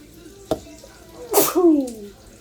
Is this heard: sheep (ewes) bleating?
no